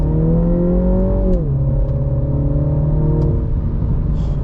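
An F56 Mini Cooper S in sport mode accelerates from inside the cabin, engine note climbing, dipping at a quick upshift, then pulling steadily again, loud and close with no talk.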